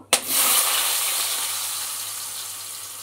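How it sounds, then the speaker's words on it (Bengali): Potatoes dropped into hot oil already holding cardamom, cloves, cinnamon and bay leaves for chicken kofta curry, bursting into a loud, sudden sizzle that hisses on steadily and slowly eases, with no talking. "দেখো আলুগুলো দিয়ে দিচ্ছি তেলের উপর"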